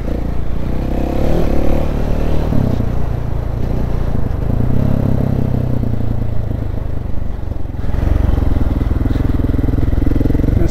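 Heavy enduro motorcycle ridden off-road through woods, its engine droning loud and close throughout with rumbling revs, clattering and scraping from the terrain, and a brief dip before the throttle opens again.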